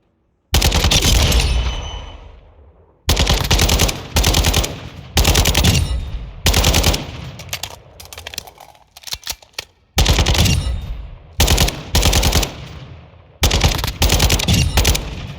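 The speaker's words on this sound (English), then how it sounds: "now we're going to go back to the firing range and shoot some more with it untuned" Untuned weapon firing on the Modern Warfare II firing range: loud, close bursts of automatic gunfire in repeated strings separated by short pauses, with no voices.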